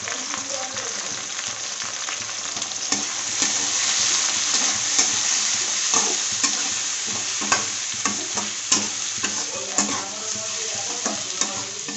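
Sautéed shrimp with turmeric and chili powder sizzles steadily in a pan, with repeated close scrapes and knocks of a spatula stirring the mixture.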